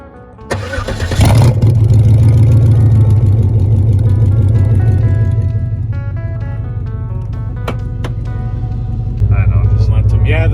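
A chopped-top Cadillac cranks briefly and fires up, then settles into a loud, steady, deep idle close by, with a few revs near the end.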